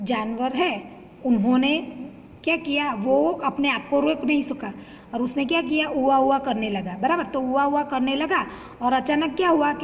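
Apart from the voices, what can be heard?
None of the usual background noises is heard.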